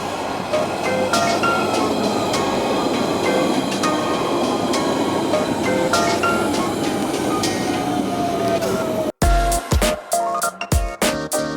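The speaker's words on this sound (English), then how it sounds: "I can see the train now." A London Underground Central Line train rumbles into the station with a long rising squeal of wheels and brakes, then loud rattling clanks as it comes to a stop.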